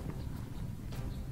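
Soft, quick clip-clop of hooves from Magyar mounted raiders in Age of Empires 2 Definitive Edition, in the Battle of Honfoglalás of 895, heard faintly as a steady patter under a low background rumble.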